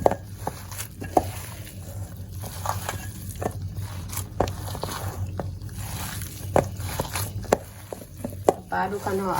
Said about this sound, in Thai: เราก็จะเริ่มผสมในอ่างผสมกับเนื้อบดเลยค่ะ